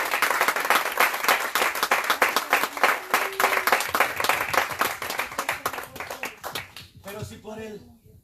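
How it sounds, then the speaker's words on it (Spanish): A church congregation claps loudly and steadily during a Sunday service, a dense run of rapid close claps that fades out and gives way to a voice at the end. "Denle un fuerte aplauso al Señor"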